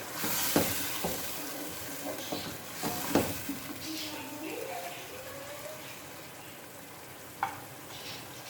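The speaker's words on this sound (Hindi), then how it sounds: "और साथ ही अदरक लहसुन का पेस्ट, और अच्छी तरह इसको मिक्स करना है।" Ginger garlic paste is stirred into a frying aloo chicken curry, with a steady sizzle and hiss under intermittent spoon scrapes and knocks against the pot, heard up close.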